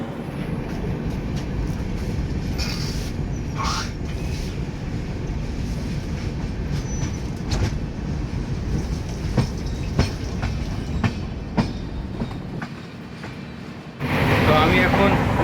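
Steady rumbling and rhythmic clickety-clack of train wheels running over tracks, heard from onboard a 3AC coach of the Vivek Express, with a brief louder whoosh at the end.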